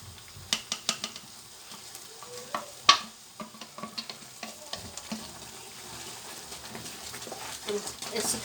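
Dates halwa cooking with desi ghee in a pan is stirred with a spoon, giving a soft sizzle under repeated scraping and clinking strokes, close and fairly quiet.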